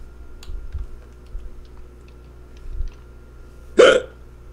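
A single loud hiccup bursts out close to the mic near the end, after a few seconds of quiet room tone with faint clicks.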